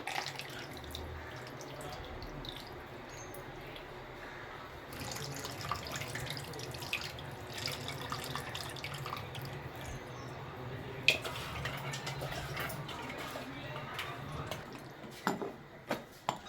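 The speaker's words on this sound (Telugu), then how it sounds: "ఇందాక మనం నానబెట్టుకున్న చింతపండు పులుసు అయితే మనం వేసుకోవాలి." Soaked tamarind water pours into a cooking pot on a low flame, a steady soft liquid splashing and trickling for several seconds with small drips and faint clinks near the end.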